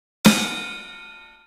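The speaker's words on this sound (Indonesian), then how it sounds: "Kemudian, ketuk secara bersamaan snare dan ride bagian tengah." A snare drum and the middle of a ride cymbal struck together once on a real drum kit, a sharp crack with a bright ringing wash that decays slowly, heard alone up close.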